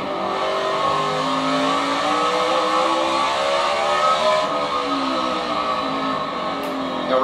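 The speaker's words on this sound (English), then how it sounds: "You see third gear down to second gear." Jeff Gordon's NASCAR race car during the 2015 Toyota/Save Mart 350 at Sonoma, engine roaring loud and continuous as it drops from third to second gear, the pitch dipping and climbing again with no voices.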